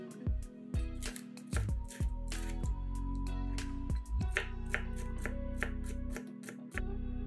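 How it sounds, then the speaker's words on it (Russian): A knife chops bell pepper into small cubes on a cutting board, crisp quick taps in irregular bursts, close and clear over a quiet kitchen with music playing underneath. "Перец нарезаем небольшими кубиками."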